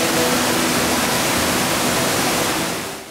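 Underground waterfall in the Corchia cave, a loud dense roar of falling water filling the space, steady and close, fading slightly at the end.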